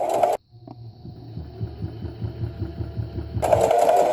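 Home sewing machine running slowly under light foot-pedal pressure, a close, steady low mechanical hum with soft rhythmic needle thumps, framed at start and end by louder bursts of other noise.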